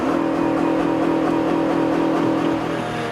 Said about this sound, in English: That is the computer not allowing it to rev any higher than that